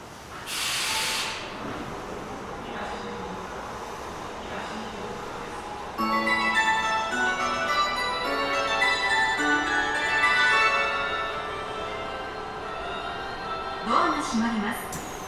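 Tokyo Metro 17000 series train on the Yurakucho Line, with a sharp burst of air hiss near the start, then a steady rising whine and rumble as the train gets under way, and a second brief hiss near the end. Announcements are heard over it.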